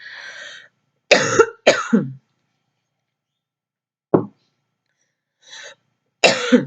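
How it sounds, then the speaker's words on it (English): A man coughs in several sharp, hard bursts, close and loud, with silent gaps between them and a brief throat-clearing rasp near the end. "Anyway, I'll leave it there because I'm going to cough."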